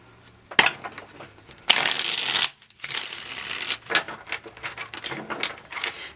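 Tarot cards shuffled by hand in several bursts of riffling and sliding, one long loud riffle in the middle, close up and without talk.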